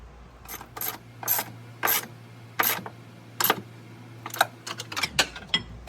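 Crisp, close ratchet clicks tightening a nut on a Nissan 350z differential brace, coming in short bursts of rapid clicking separated by pauses, over a faint steady hum.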